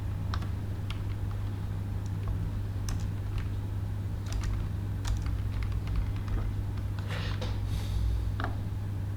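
Steady typing on a computer keyboard, close up, with a continuous run of soft key clicks and a few sharper key strikes over a constant low hum; no one talks.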